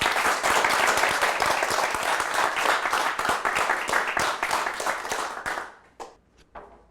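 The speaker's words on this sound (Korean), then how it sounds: "박수로 청해 주시죠." An audience at a Korean talk concert gives loud, full applause to welcome a photographer on stage. The clapping holds steady for several seconds, then thins out to a few scattered claps.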